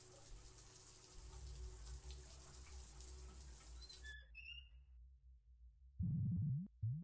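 Shower water running in a video game, a steady hissing spray that cuts off abruptly midway, followed by faint tones and a short low thump near the end.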